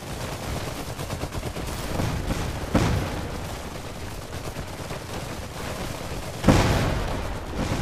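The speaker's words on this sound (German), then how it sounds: "So, hier noch ein bisschen Granaten reinwerfen" Grenades burst in the strategy game Iron Harvest with two distinct sharp explosions amid a dense, continuous crackle of gunfire and battlefield rumble.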